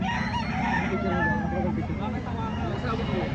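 Fighting rooster crowing at a gamecock sale in Lipa City, heard amid busy crowd chatter and nearby talking voices, with a steady noisy backdrop throughout.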